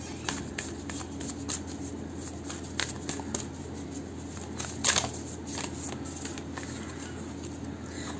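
Oracle cards being shuffled and pulled by hand, soft papery riffles, taps and slides scattered irregularly over a quiet room background, close and faint, with no speech.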